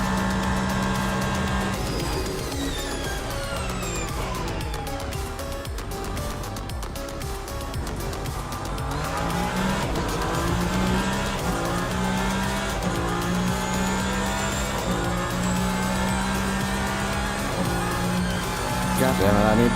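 Race car engine in Assetto Corsa Competizione on the Mount Panorama circuit, revving up and down through gear changes with rising and falling whine, steady and loud for the whole stretch, with no rev limiter sound.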